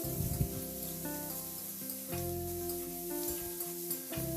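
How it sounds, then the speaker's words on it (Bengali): Tomato with salt and turmeric masala sizzles softly in a pan while being stirred, with faint scrapes and a steady low hum in the background. "এরপর এই মশলাটাকে একটু নাড়াচাড়া করে কষিয়ে নেব।"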